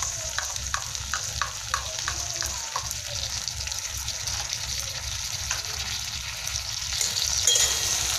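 Chili chicken gravy with cornflour water sizzles in a pan while a spatula scrapes and taps the metal in a quick rhythmic series, then the bubbling hiss continues steadily and close.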